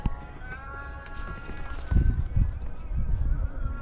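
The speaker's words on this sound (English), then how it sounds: "Oh, the horse." A horse's hooves clip-clop on a street near the Giza pyramids in Egypt. Irregular knocking steps sit close and fairly loud among busy outdoor ambience, with people talking nearby.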